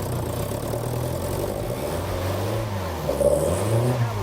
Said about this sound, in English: it's running flat because it needs choke